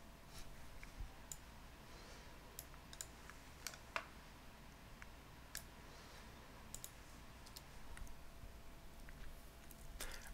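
Mouse clicks in email campaign software, a series of sharp, isolated clicks scattered irregularly over a low steady background hum, fairly faint and close.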